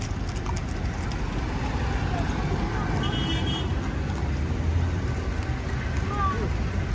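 Car traffic on a road in Marrakech past midnight: a steady, continuous rumble of passing vehicles throughout, with faint voices mixed in.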